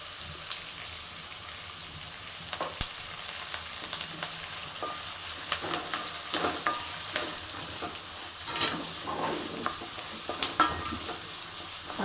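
Onion and curry leaves fry in a pan for misal pav, a steady crackling sizzle broken by scattered clinks and scrapes of stirring, close and moderately loud, with no voices.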